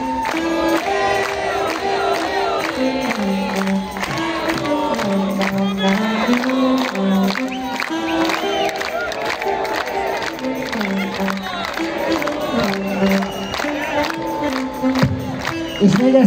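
A children's crowd at an outdoor concert cheering and shouting continuously, a loud, dense roar of young voices with whoops rising and falling throughout.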